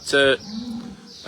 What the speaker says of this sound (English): So the cows are all down here